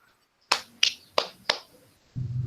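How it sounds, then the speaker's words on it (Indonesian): Children in a second-grade class clap for a classmate, four sharp, evenly spaced claps in a quiet room, followed by a brief burst of low noise. "Kita beri tepuk tangan untuk adik Tere ini"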